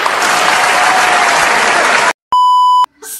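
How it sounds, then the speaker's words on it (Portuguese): Classroom applause for a student's correct answer, loud, dense clapping from a group of students lasting about two seconds, then cut off by a sharp electronic beep tone and a brief burst of noise. "Palmas."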